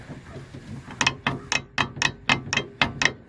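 A worn backhoe U-joint with heavy play knocks out a string of sharp metallic clanks, about eight evenly spaced hits in two seconds, close and loud over a low background hum.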